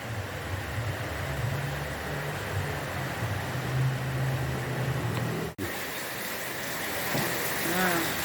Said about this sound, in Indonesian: Ini alhamdulillah mulai mereda hujannya.